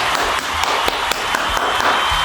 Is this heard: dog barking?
no